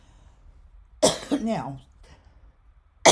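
A single sharp cough bursts out close to the mic, followed by a quick spoken word and then a second abrupt cough, the kind that comes just before a sneeze.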